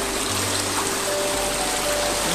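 Floodwater runs like a stream through a flooded street in Mahayahay, Iligan City, a steady rushing wash of water heard close and continuous, with a low hum beneath.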